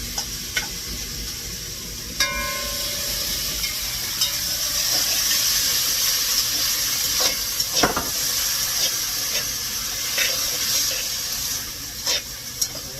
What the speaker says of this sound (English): Next I'm going to put in the mixed vegetable